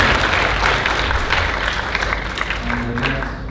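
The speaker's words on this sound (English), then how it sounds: "Give us applause, please." Audience applause at an international academic conference, welcoming a professor to the stage; steady dense clapping throughout, moderately loud, with some crowd murmur underneath.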